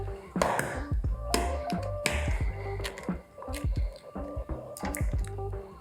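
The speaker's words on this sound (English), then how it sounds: "Now we're gonna add 1 egg white" An egg white is added to a cocktail shaker for an apricot brandy sour, producing close, soft wet drips and squishy liquid plops mixed with light taps and clinks against the shaker.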